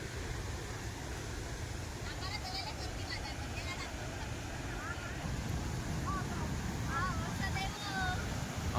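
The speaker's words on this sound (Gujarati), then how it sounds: "આ ગિરાધોધનું પાણી બહુ ઝડપથી આવે છે." Gira waterfall at Saputara during the monsoon, its water rushing in a steady, loud broadband roar that fills the whole stretch, with faint crowd voices and chatter mixed in.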